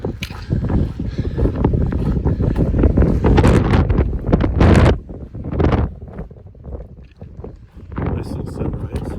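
Strong wind gusting across a hilltop campsite on the Pacific Crest Trail near Idyllwild, buffeting the microphone with loud, rumbling blasts that swell and ease, with brief voice sounds underneath.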